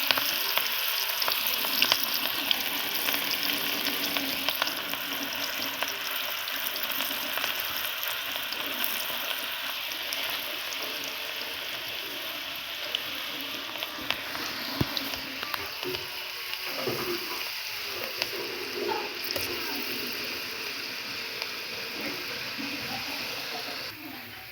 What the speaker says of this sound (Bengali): কড়াই চাপিয়ে দিয়েছি, তেল গরম হয়েছে, ছেড়ে দিচ্ছি